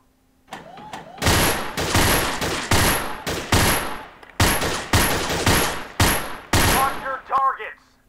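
Sustained automatic fire from an Allied SMG 26-40 submachine gun in the VR shooting game Gun Club VR, dense loud bursts with brief gaps, ending with metallic clanks.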